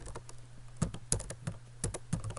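A computer keyboard is typed on up close in short, irregular bursts of clicky keystrokes while a command is entered at a Windows or Linux prompt, with no voices.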